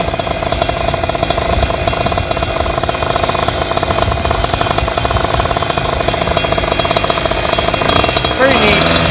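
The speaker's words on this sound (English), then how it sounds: "So, this is my newest engine platform for my current shift kit bike." A 2-stroke 85cc motorized bicycle engine with a shift kit and reed case runs loud and close in a harsh, rapid, buzzing drone that stays steady, then shifts tone near the end.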